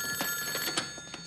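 Telephone ringing indoors at Christmastime, a short bright electronic ring repeating in quick pulses, fairly close and alone.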